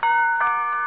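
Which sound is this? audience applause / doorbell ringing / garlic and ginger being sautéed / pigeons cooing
doorbell ringing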